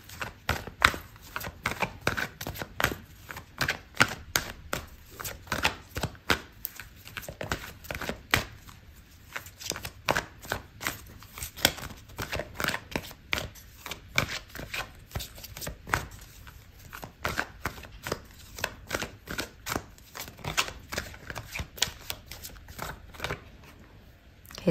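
Tarot cards are shuffled steadily for a long stretch. Quick, crisp riffling and slapping sounds repeat close by with short pauses between bursts.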